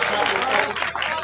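Applause from the audience at a Hindi poetry gathering (kavi sammelan) bursts out as a loud, continuous wash of clapping lasting about a second, with voices mixed in underneath.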